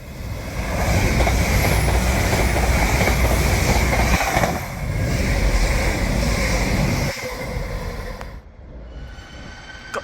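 A Croydon tram passing close by, a loud continuous rolling rumble with rail noise that dips briefly midway, then fades sharply toward the end.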